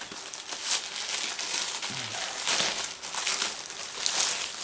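Close crinkling and tearing of plastic packaging as a parcel from China is opened, with soft rustles and quick rips continuing throughout and no talking.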